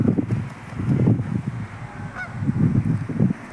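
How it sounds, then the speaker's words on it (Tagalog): A large flock of wild ducks gathers along a shoreline near Hudiksvall, Sweden, giving loud, dense honking calls in repeated overlapping bursts close by. "ang daming mga wild duck, ang lalaki pa"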